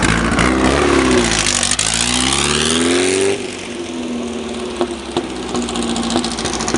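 A Meyers Manx dune buggy engine revs hard after a cold start, its pitch climbing and falling loudly and up close before easing back toward a rougher, steadier idle.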